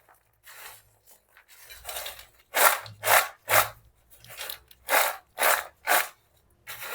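Roasted peanuts being tossed with masala spices in a metal bowl or pan, a run of dry scraping, rattling strokes that grow louder and settle into a steady rhythm of about eight sharp bursts.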